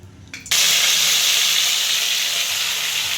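Ground masala paste hitting hot oil in a kadhai sets off a loud, sudden sizzle that holds steady and bright after a brief quieter moment.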